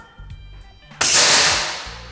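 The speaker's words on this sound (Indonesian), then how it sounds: "Oke, tembakan yang pertama." A single sharp crack of an air rifle firing an HN slug pellet, green 13, up close and loud, followed by a short fading decay.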